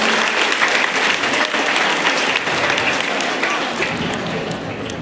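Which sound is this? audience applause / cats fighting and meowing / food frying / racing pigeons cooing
audience applause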